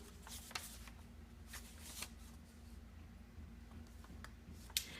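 Folded paper being recreased by hand, giving soft rustling crinkles with a few sharper crackles, quiet and close, over a faint steady hum.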